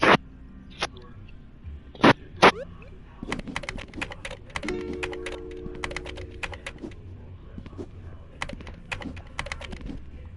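Typing on a computer keyboard, heard as irregular bursts of light clicks and clacks with a few sharper, louder taps near the start, close and fairly quiet against a low background hum.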